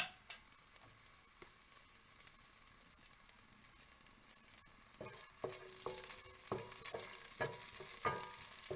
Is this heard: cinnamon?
yes